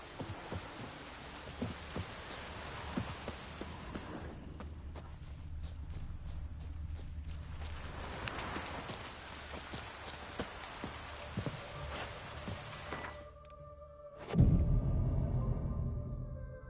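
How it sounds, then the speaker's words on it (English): Steady rain falling in The Witcher 3, a soft continuous patter with faint ambient game noise, ending in a louder low rumble near the close. "no use doing any work in this rain"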